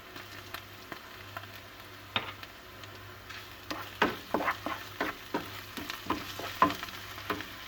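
Onion and garlic fry gently in a pot with olive oil, a faint continuous sizzle punctuated by frequent light scrapes and taps of a spoon against the pot, close and quiet.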